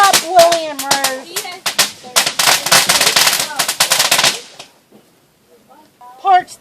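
Rednecks setting off fireworks outdoors: a rapid, loud volley of crackling bangs and pops fills the first several seconds, then fades to near quiet with a last burst at the end, while voices can be heard around the blasts.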